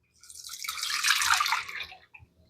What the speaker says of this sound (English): pour it through the strainer